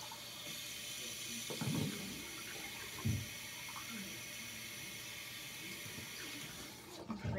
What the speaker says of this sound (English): And then I'm gonna rinse this out real quick.